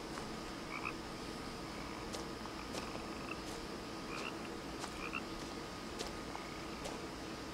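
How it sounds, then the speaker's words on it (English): A frog croaks inside a video game, giving a few faint, scattered calls over a steady low ambient hum with no one talking. "There's gotta be a trophy for catching this frog."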